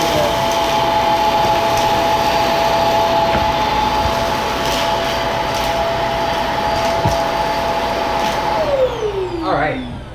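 A Hoover PowerDrive Pet vacuum cleaner runs loud and steady with a constant whining drone, close by, then winds down near the end while faint speech sits underneath.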